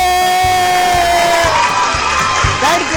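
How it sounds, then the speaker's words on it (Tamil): Children clap and cheer together at a prize giving for a bottle flip game, a loud, continuous crowd roar with rhythmic thumps and voices mixed in. "எல்லாரும் கைத்தட்டுங்க"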